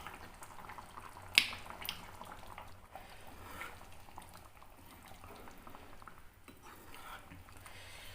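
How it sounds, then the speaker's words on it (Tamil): Sankara fish gravy bubbling as it boils in a cooking pot, a soft steady simmer with a sharp clink near the start, quiet and close throughout. "ஒன்று நல்லா கொதி வரட்டும்"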